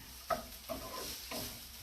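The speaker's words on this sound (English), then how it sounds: "So we're sauteing up garlic, onion, green peppers to go with our black beans and rice." Garlic, onion and green peppers sautéing in a pan, a quiet sizzle broken by a few light stirring scrapes and taps, close and without voices.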